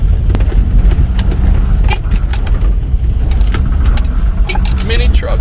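A 4x4 mini truck slides through deep snow, its engine a close, loud low rumble mixed with crunching, clattering knocks and bumps from the truck and snow, with voices talking over it.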